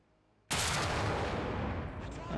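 A single loud, sharp cannon blast from a Type-60 SPRG recoilless gun firing at an IS-3 tank in War Thunder, bursting suddenly out of near silence and rumbling on as a long decaying roar.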